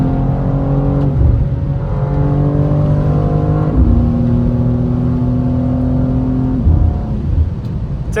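A modded BMW G87 M2 cruises along back roads, its engine droning steadily with rising and falling tones as it shifts through gears, loud and close throughout with no talk.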